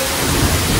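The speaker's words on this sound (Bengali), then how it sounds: "খুব জোরে বৃষ্টি হচ্ছে" Heavy rain roaring loudly and steadily, with a deep rumbling undertone beneath the constant downpour.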